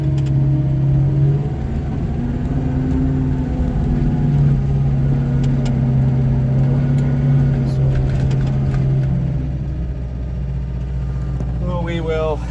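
A Peterbilt 352 cabover truck, just started after sitting for 20 years, rumbles with a steady low engine drone that holds near and loud throughout, shifting slightly in pitch as it drives, with faint clinks near the end.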